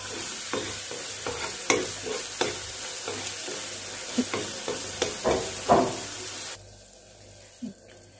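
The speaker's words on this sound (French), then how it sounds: "Donc là, nous sommes en train de faire une macération à chaud, ok? Donc, on va remuer de temps en temps." Hot maceration for an avocado body balm stirred in a pot, giving a series of soft scraping and clinking strokes over a low bubbling sizzle before the stirring stops.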